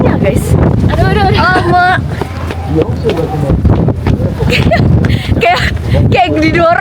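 Strong cold wind buffets the microphone with loud continuous rumbling gusts, while people talk over it throughout.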